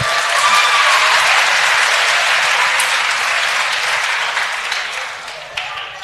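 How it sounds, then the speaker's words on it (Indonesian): An audience of students at an Islamic study gathering breaks into loud, sustained applause, a dense wash of clapping that slowly fades over about six seconds. "Nah, tepuk tangan dulu."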